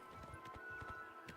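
Horse hooves clip-clop at a steady trot in the game Elder Scrolls IV: Oblivion Remastered, moderately close and fairly quiet, with a low steady game ambience underneath.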